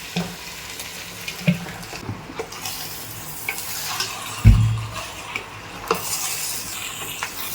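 Chicken fries in a pan with fully roasted onions, giving a low steady sizzle beneath repeated scraping and stirring strokes and one louder knock of a spoon against the pan.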